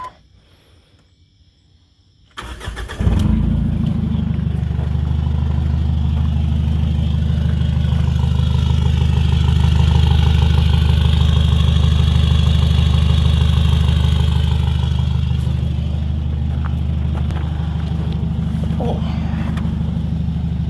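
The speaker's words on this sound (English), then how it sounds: "listen to how cool this thing sounds" An engine starts up after a brief quiet moment and settles into a steady, deep, loud idle that rumbles on continuously: a diesel engine in a Jeep XJ.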